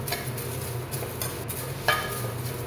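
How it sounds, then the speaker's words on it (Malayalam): A spoon stirs a home-made henna mixture with a spoonful of coffee powder in a pan, giving soft, repeated scraping strokes at close range and one sharper clink of metal partway through. "അതും കൂടി ഇട്ടൊന്ന് നമുക്ക് നന്നായി ഒന്ന് ഇളക്കിയെടുക്കാം."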